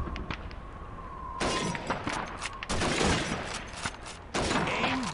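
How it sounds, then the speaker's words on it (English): Rifle shots at a shooting range in the Call of Duty 2 Winter War campaign, several loud cracks with glass bottles and plates shattering, the bursts of breakage followed by ringing debris and game ambience. "Step up to the shooting range. Ready, comrades? Shoot those bottles and plates."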